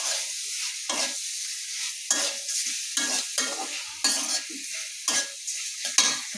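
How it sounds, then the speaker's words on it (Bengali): Pigeon meat and potatoes are stirred and sautéed in a pan, with rhythmic scraping strokes about once a second over a soft, continuous sizzle. "আলু দিয়ে একটু কষিয়ে নিতে হয়, তা না হলে কিন্তু ভালো লাগে না"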